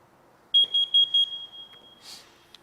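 A carbon monoxide alarm on test sounds a quick burst of four loud, shrill beeps, then fades, followed by a brief hiss and a faint click.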